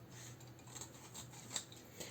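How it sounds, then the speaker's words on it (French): Scissors cut paper along a drawn line, producing soft rasping snips in an uneven rhythm over a steady low hum, close and fairly quiet. "Je prends ma paire de ciseaux. Je coupe à peu près au niveau du trait que j'ai tracé."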